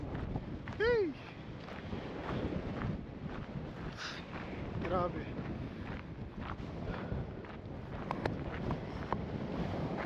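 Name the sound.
strong wind on a mountain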